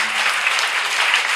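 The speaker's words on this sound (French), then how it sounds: "On vous applaudit, Seigneur." Church congregation applauding in steady, dense clapping that fills the space, loud and continuous with no pauses.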